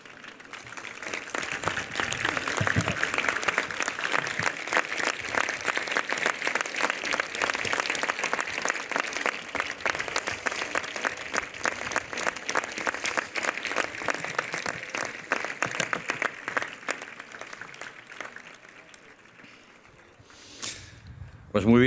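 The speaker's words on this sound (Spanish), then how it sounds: "por favor, nos levantamos, nos damos la vuelta y les aplaudimos directamente a ellos" A standing audience at a university diploma ceremony for an agronomy, food and biosystems engineering school claps steadily for about eighteen seconds, a dense, sustained round of applause that thins out and fades near the end.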